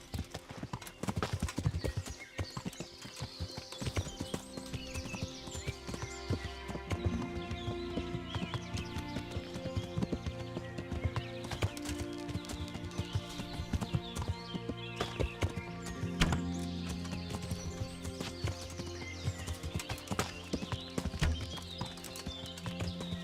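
Hooves clip-clop in a steady, continuous trot in the video game Kingdom Come: Deliverance, with a horse neighing at times over layered music and ambient game sounds.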